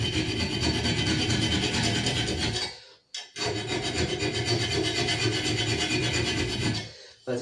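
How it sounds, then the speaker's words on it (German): Soldered metal ends are sanded down by hand in close, steady rasping strokes that run for nearly three seconds, pause briefly, resume for almost four seconds, then stop again. "Die Endchen hier nochmal einmal kurz nachgeschliffen."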